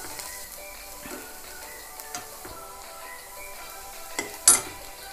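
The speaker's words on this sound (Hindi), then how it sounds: "अब हम इसको 1 मिनट तक इसी तरह मीडियम फ्लेम पे इसको भूनते रहेंगे।" Chicken roll filling with red chilli sautéed in a pan over a medium flame, with soft scrapes and stirring taps from a spoon and a faint sizzle underneath, ending in one louder clatter.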